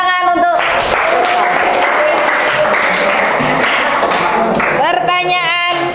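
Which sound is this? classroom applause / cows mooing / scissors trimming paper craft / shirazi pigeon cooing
classroom applause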